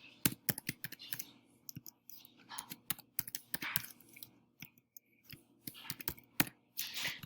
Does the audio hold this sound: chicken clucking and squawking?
no